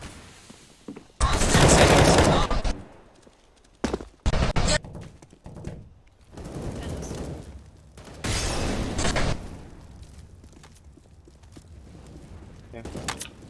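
Bursts of gunfire in the shooter game CS:GO, loud volleys of rapid shots in several separate clusters with short gaps between them, players' voices talking over the action.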